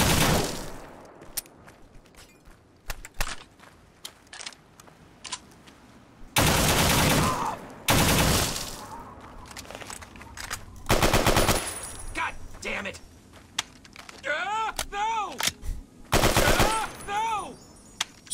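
Bursts of automatic gunfire from a shootout in Fallout Tale of Two Wastelands, loud clattering volleys interrupting quieter stretches, with scattered single shots, whistling ricochet-like sweeps and occasional talk.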